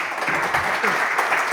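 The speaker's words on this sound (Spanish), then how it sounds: "nos despidamos de él recibiendo un aplauso de todo el público" An audience gives a sustained round of applause at a Spanish knife-making gathering, a steady wash of clapping heard close and fairly loud for the whole moment.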